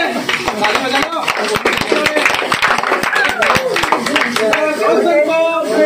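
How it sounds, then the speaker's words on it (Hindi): An audience at an academy Friday fun event claps loudly for a participant, with a dense run of sharp hand claps and voices talking and calling out over the applause. "एक बार जोरदार तालियां रोशन के लिए"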